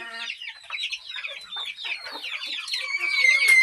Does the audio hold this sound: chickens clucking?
yes